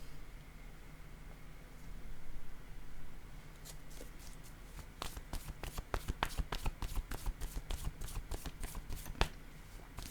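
Paper word cards handled and laid out on a surface, opening with soft rustling, then a quick run of crisp snaps and flicks as cards are set down one after another, close and fairly quiet with no talk.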